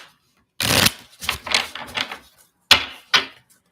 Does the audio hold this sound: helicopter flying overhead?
no